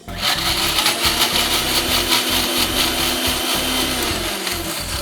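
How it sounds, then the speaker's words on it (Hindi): A kitchen mixer grinder runs continuously, pulverising roasted tomatoes and garlic into a thick chutney with no water added. The whirring and rattling stay steady and loud throughout, with no talking. "इसको आपने मिक्सी में पीस लेना है"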